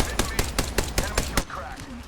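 Rapid gunfire in the Apex Legends video game, seven evenly spaced shots in a quick burst over a busy game background, then fading off.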